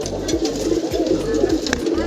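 Pigeons coo in a steady, repeated low burble close by, with a voice talking over them throughout.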